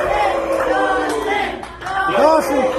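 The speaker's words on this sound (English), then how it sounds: "Listen to that. The crowd loves" A wrestling crowd at an SICW All-Star Wrestling show cheers and shouts for a front-row fan, making a steady roar beneath someone speaking over a microphone.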